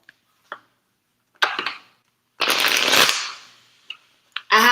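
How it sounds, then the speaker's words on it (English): A deck of tarot cards is shuffled close by, with scattered light clicks and snaps of the cards followed by one long riffling burst, then a few more quick taps. "I'm just going to put them back in the spread or back in the deck and shuffle."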